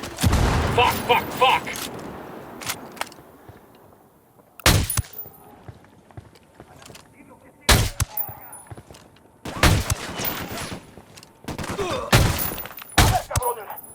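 Loud bursts of gunfire in Ghost Recon Wildlands come in repeated volleys separated by quieter gaps, close and punchy, with someone shouting and people talking between the shots.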